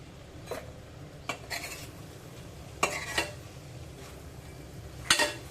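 A spoon stirs ground masala paste into stingray curry in a cooking pot, giving several separate scrapes and metallic clinks spaced a second or so apart over a quiet, low background sizzle.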